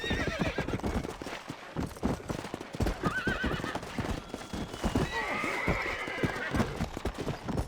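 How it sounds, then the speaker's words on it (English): A horse in the Red Dead Redemption Undead Nightmare video game clip-clops steadily at a walk and lets out a couple of whinnies, the hoofbeats close and rhythmic throughout. "Is that the horse of death?"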